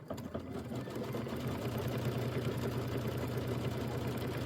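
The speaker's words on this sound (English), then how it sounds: "Let the machine do the piecing for you." A sewing machine stitches quilt fabric pieces together, its steady motor whir running continuously and fairly loud throughout, with no talking.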